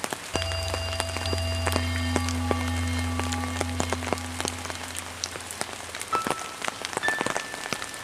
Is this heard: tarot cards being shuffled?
no